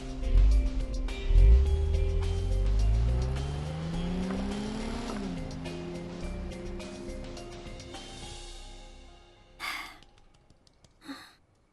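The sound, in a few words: car speeding away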